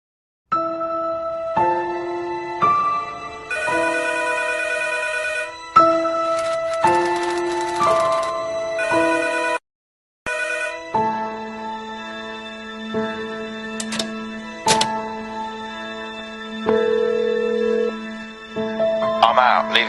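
A mobile phone ringtone plays a bright, repeating melodic tune of stepped electronic tones, loud and close, with a short gap partway through before the melody resumes.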